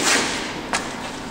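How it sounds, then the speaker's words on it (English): A single sharp punch lands with a short, close thud that snaps out over a faint background of room noise. "I heard the thud from that one."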